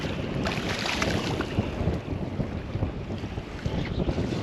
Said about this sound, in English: I would say that wind's possibly eased a little bit now.